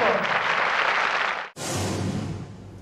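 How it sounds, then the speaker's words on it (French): A TV studio audience applauds a guest in a dense, steady wash of clapping, cut off briefly halfway through and then resuming at a slightly lower level. "Monsieur Contu, que je vous demande d'applaudir"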